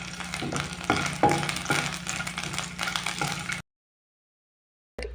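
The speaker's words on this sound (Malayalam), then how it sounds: "ഇനി നമ്മൾ കട്ട് ചെയ്ത് വെച്ചിട്ടുള്ള വെണ്ടക്ക പാനിലേക്ക് ഇട്ട് കൊടുക്കുക." Cut okra frying in oil in a pan for Kerala-style sambar, a close crackling sizzle with scattered spoon knocks and scrapes, cutting off abruptly into silence before a brief return at the very end.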